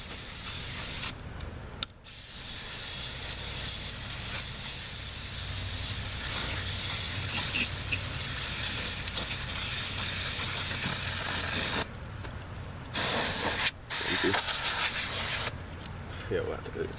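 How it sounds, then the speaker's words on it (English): Aerosol can of brake cleaner sprays in long continuous hissing bursts with brief pauses, close by, during valve cover gasket work on a Lexus GS400; faint voices talk in the background. "Those cans of brake cleaner run out so fast."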